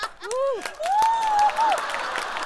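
Live audience at a Chinese crosstalk comedy show with Yue Yunpeng and Sun Yue applauds in a steady, dense patter throughout, while a drawn-out, rising and falling vocal exclamation rings out above the clapping.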